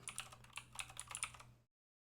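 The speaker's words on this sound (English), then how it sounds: "I'm going to type regedit." Quick keystrokes clatter on a computer keyboard in a short, close burst of about a dozen taps before stopping abruptly.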